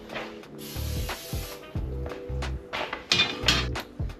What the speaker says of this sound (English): make sure the pan is sprayed.